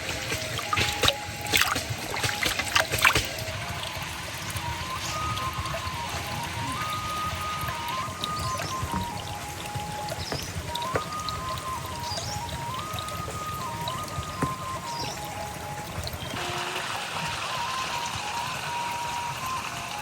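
Spring water welling up from the ground in the countryside, a steady close trickle and splash that runs continuously through the whole stretch, with a faint tonal whine drifting underneath.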